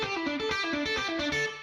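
A short, fast lick on a distorted electric guitar plays a quick run of picked notes, up- and downstrokes with a pull-off, heard close and loud with no talking.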